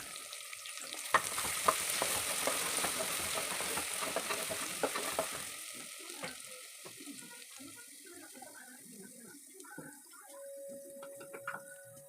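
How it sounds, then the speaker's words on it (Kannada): Onions and ginger-garlic paste fry on a medium flame, a steady close sizzle with stirring scrapes, strongest at first and thinning later, with a few sharp clinks. "ಮೀಡಿಯಮ್ ಫ್ಲೇಮಲ್ಲಿ ಇಟ್ಕೊಂಡಿದ್ದೀನಿ ಸ್ವಲ್ಪ ಶುಂಠಿ ಬೆಳ್ಳುಳ್ಳಿ ಪೇಸ್ಟ್ ಇದ್ದೀನಿ"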